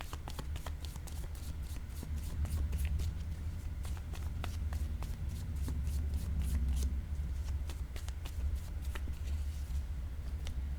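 Playing cards are shuffled and drawn for a tarot-style reading. Close, crisp riffling and snapping runs steadily throughout, with no voice heard.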